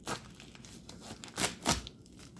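Boker Kalashnikov button-lock folding knife making a cut test, three or four short, close slicing and tearing swipes through paper or similar material against a quiet background.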